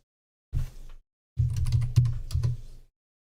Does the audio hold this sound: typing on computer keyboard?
yes